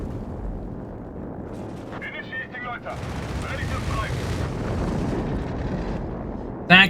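Flak 36 anti-aircraft guns fire in a busy Company of Heroes 3 battle, a continuous rumbling mix of blasts and bursts under a commentator's talk, with a sharp loud crack at the very end.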